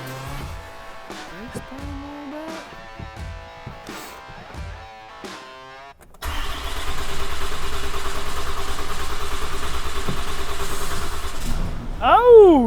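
Someone talks, then a 2025 Cummins diesel pickup engine cranks and catches, settling into a steady, loud rumbling idle nearby.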